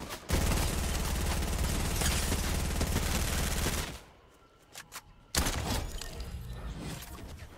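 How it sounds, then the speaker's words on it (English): Sustained automatic gunfire in the video game Immortals Fenyx Rising, loud and dense for several seconds, then briefly dropping away to a few scattered shots before the firing resumes at full intensity. "where's the gunfire coming from?"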